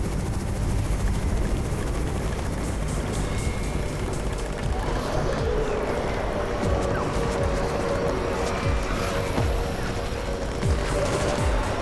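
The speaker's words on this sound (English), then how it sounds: "It's the Raven's chopper!" A helicopter's rotor thumps and engine drone continuously in the zombie survival mobile game Undawn, over a noisy, chaotic backdrop with scattered bursts like gunfire.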